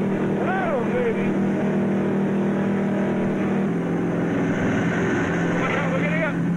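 A racing powerboat in the 1978 Spithead Trophy runs on with a loud, constant engine drone and rushing wind and water, voices speaking over the roar now and then.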